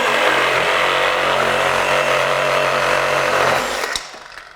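A Craftsman V20 brushless cordless reciprocating saw with a pruning blade cuts steadily through nasty wood, a dense, continuous buzzing rasp held loud and close for nearly four seconds before it stops abruptly.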